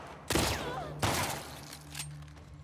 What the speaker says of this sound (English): Popping guns in the mission.